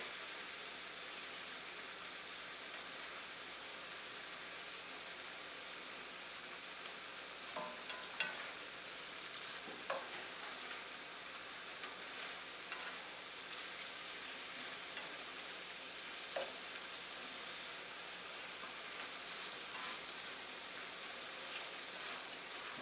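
Beef for spicy Mongolian beef frying in a pan while it is stirred: a steady, even sizzle with sparse, faint scrapes and taps. No voices.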